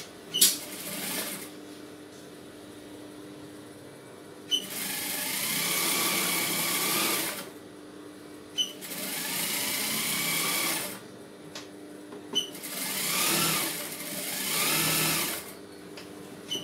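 An electric sewing machine stitches the lining of a chudidar neckline in three sustained runs of steady whirring, each a few seconds long, separated by quiet pauses with small clicks of fabric handling.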